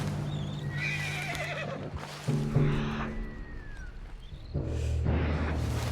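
A horse in Red Dead Redemption 2 gives a loud whinny, then snorts and neighs again amid scattered hoof clops and game ambience, with no talk over it.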